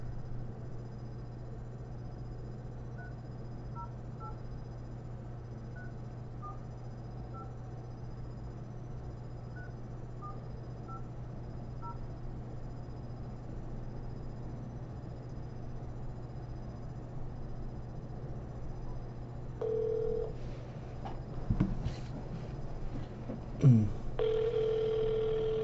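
A telephone line carries a steady dial tone with a low hum for a long stretch, then dialing clicks and a few short tones come near the end, fairly quiet throughout.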